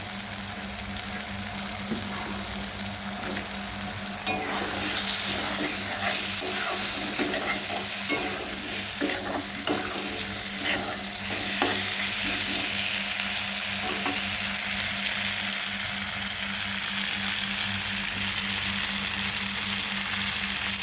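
Cut raw potatoes are stirred and fried in a spice masala for an egg omelette and potato curry, with a constant close sizzle and repeated scraping and clattering of the spoon against the pan, no voices.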